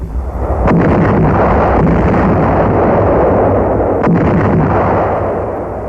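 Naval bombardment of bombs and shells pounding invasion beaches, a loud continuous roar of heavy blasts with two sharper cracks standing out near the start and partway through, sustained and dense throughout.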